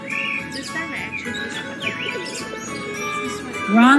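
Birds chirp and call in a Venetian setting within the Nancy Drew: The Phantom of Venice game, a continuous run of thin, bright tweets over steady ambient background, heard alone without talk.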